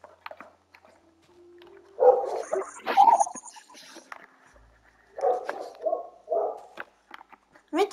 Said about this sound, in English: the dog started barking right when you said that in like my street